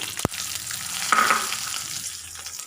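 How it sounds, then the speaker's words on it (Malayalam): Coconut pieces and cashew nuts fry in a pan for a payasam, a steady close sizzle with a brief clink near the start and a stir partway through. "തേങ്ങാക്കൊത്ത് ഒന്ന് കളർ മാറി വരുമ്പോൾ നമുക്കിതിലെ കശുവണ്ടി പരിപ്പ് ചേർത്ത് കൊടുക്കാം."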